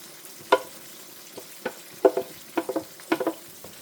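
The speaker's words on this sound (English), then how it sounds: "I'm going to allow it simmer down and cook" A blended mix of paprika pepper, scotch bonnet, fresh garlic and thyme simmers in a pot, with a quiet bubbling base and scattered soft pops and spoon clinks heard close by.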